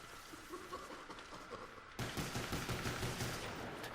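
Automatic gunfire in the zombies mode Call of the Dead, with a weapon being emptied, a rapid rattling burst that suddenly gets louder halfway through and keeps going, dense and close.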